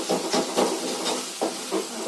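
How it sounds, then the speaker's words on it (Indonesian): Fish frying in hot oil gives a steady, loud, hissing sizzle with pulsing surges of spatter, heard up close and alone. "kita buat goreng ikan lagi teman-teman"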